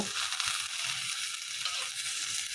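Dried chapa shutki fish turned over in a hot dry pan with no oil, giving a steady, close crackling sizzle with soft scraping, no talking.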